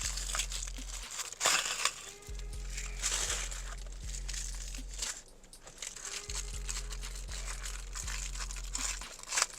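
Thin plastic bag around a Power Rangers Lightning Collection toy being crinkled and handled, giving continuous soft rustling and crackling with a few sharper crunches, close and fairly quiet, no voices.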